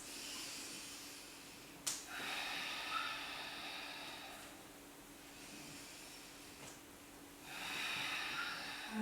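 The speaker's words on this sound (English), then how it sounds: "Just reconnecting here with Ujjayi breath." Slow, steady ujjayi breathing during a yoga practice, a soft airy hiss rising and falling over several drawn-out breaths, close and quiet with no talking.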